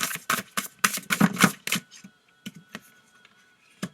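Cards being drawn and shuffled for a reading, a run of crisp papery flicks and slaps close by, dense at first and then thinning to scattered single snaps.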